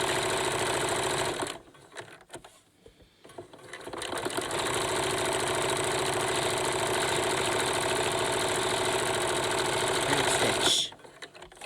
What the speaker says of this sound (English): make sure that you're sewing as close to the bottom of the bias tape as possible.